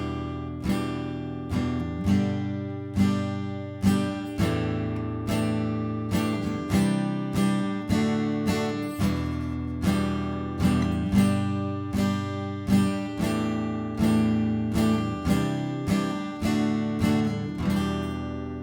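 An acoustic guitar strums chords in an even, accented pattern, each stroke ringing and decaying in a steady rhythm, close and clear with no talking.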